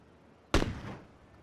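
A single sharp Tommy gun shot in PUBG, loud and sudden, with a short echoing tail that fades over the next second; no one speaks.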